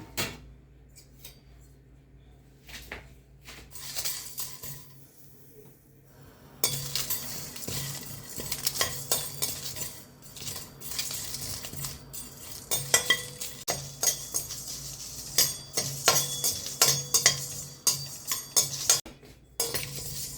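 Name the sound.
dry roasting cumin, pepper and dried chili in a pan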